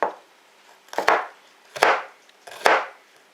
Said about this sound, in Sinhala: ඉන්පසුව අපි මේ කරවිල පළු දෙක හීනියට කපා ගන්න ඕනේ.